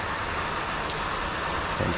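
Steady rain pours down outdoors on a monsoon morning during the Ganpati festival, a dense continuous wash of drops close by, with a faint car passing near the end.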